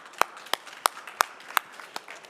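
A small audience claps sparsely for chef Pierre Siewe at the EquipHotel open-stage event: about half a dozen separate hand claps, fairly quiet, with no talk.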